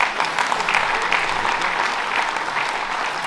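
Sustained audience applause at a business awards evening, the Trophées des Entreprises du Cantal 2022, a dense, even clatter of many hands clapping throughout with no voices over it.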